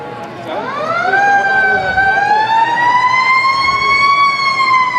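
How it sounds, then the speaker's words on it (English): A loud wailing siren rises and holds a steady high tone, continuous and close, with traffic rumble underneath, at a Fourth of July parade in Ketchikan. "let the sirens speak for themselves for a moment"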